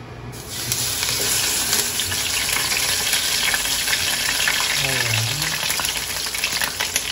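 Chicken inasal and garlic sizzle steadily in a hot pan, a dense continuous frying hiss with scattered crackles and pops lasting throughout, close and fairly loud, with a brief low murmur near the end.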